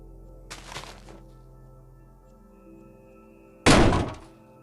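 Two heavy thudding car crash impacts in a video game, a duller one early and a much louder crunching bang near the end, over a low steady hum.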